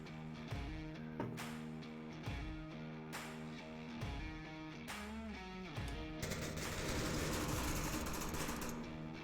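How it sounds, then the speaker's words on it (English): Gunfire in the Onward VR shooter video game, with sharp scattered shots and short bursts at varying distances, ending in a denser stretch of rapid fire. "Great headshot from Sir Cookie Noob."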